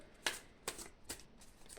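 Tarot cards being shuffled in three or four quick, crisp riffles, close and fairly quiet, each burst separated by a short pause.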